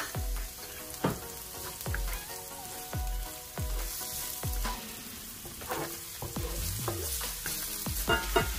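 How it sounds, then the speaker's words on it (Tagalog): Garlic and onion crackle and sizzle in hot cooking oil, with repeated scraping stirs of a utensil in the pan keeping a busy, close rhythm throughout. "painitin natin ito. Magsutay tayo ng garlic."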